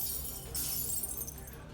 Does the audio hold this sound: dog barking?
no